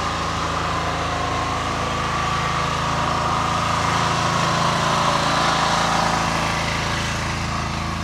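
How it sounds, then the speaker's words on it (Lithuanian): Motorcycle engine idling in the desert, a steady, close, continuous mechanical hum and buzz that holds at an even level throughout without revving or talk. "Atvažiavom pasivažinėti su motociklais per dykumą."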